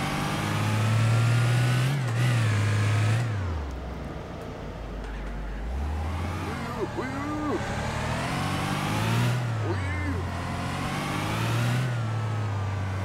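A Nissan Silvia S14 in City Car Driving starts and revs repeatedly, its engine note climbing and dropping in several loud surges with brief idle dips between, while someone speaks over it.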